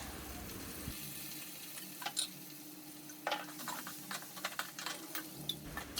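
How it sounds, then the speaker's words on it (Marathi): Onion and capsicum sautéing in a pan with salt, turmeric and tomato for a Marathi fasting-break meal: a steady low sizzle with scattered stirring clinks and scrapes, close and continuous, no talking. "आणि एक साईडला कांदा आणि शिमला मिरचीसुद्धा छान परतते"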